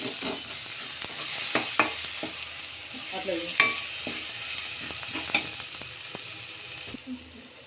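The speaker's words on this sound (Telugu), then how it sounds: "ఇది కూడా కొంచెం నూనెలో వేపుకుందాం" Steady sizzling of turmeric frying in hot oil, with intermittent scraping and clinks of a utensil stirring the pan up close.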